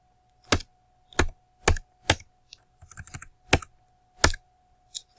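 A computer keyboard being typed on, close and crisp: about eight separate sharp keystrokes spaced roughly half a second apart, with a short flurry of lighter taps in the middle and quiet between presses.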